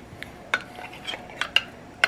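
Cauliflower pieces for homemade vegan buffalo cauliflower clatter back into a pan, with a few sharp utensil and pan clinks spaced out over a couple of seconds, close and fairly quiet.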